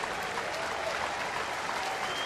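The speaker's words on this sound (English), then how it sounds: "And a nice round of applause for Jeff Karstens." Baseball crowd applauding steadily at a stadium, a dense wash of clapping that holds at an even level throughout, with faint voices mixed in.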